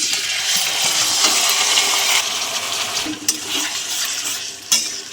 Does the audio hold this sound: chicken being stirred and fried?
yes